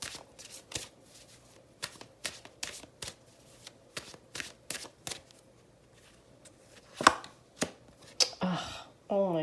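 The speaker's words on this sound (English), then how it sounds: "I have to give these a really good shuffle" Tarot cards are shuffled in a quick series of crisp riffling bursts, about a dozen short snaps in an uneven rhythm, close and clear against a quiet room, ending in a longer flurry.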